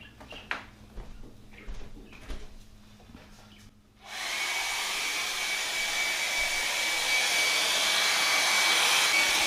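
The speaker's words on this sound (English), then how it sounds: "I'm going to take my hair dryer and I want to dry this barrel off real good" A hair dryer switches on after a few seconds of quiet handling noises, then blows loudly and steadily with a constant whooshing hiss while drying a muzzleloader barrel.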